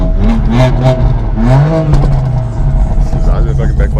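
Car engine revving hard on the street, loud close roaring swells with crackling pops, while people talk excitedly over it throughout.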